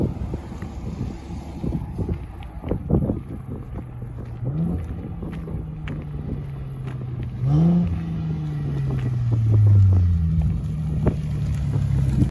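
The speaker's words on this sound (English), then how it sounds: "And as we speak, here comes the 370Z." A Nissan 370Z pulls in with a low engine rumble that rises and falls in pitch as it nears, mixed with wind noise over the microphone.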